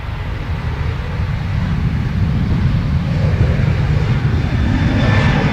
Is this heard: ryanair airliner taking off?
yes